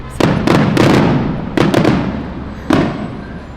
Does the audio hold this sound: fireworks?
yes